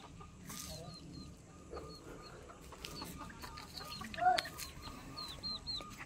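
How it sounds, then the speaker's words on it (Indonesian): Chickens cluck faintly around a rural village amid light outdoor background noise, with scattered short clucks and one slightly louder call near the end. "Ada ayam. Mana ayamnya?"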